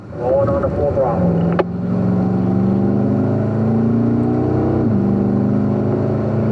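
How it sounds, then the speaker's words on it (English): Race vehicle on a track rolling on to full throttle out of a turn, a loud engine note climbing steadily for several seconds near the listener after a brief spoken remark at the start. "Rolling on to full throttle."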